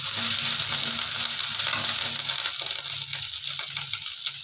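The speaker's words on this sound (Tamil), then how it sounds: "இப்போ கருவேப்பிலை சேர்த்துக்கலாம்." Curry leaves sizzling in hot oil with ginger and garlic, a loud, steady crackling hiss close up that runs without a break, with no voices.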